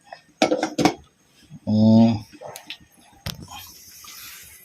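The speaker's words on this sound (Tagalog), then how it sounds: "Takpan lang naman natin guys, takpan." A metal lid clatters onto a cooking pot of Pobreng Ilokano with a short, bright ringing clank, heard between bursts of nearby talk.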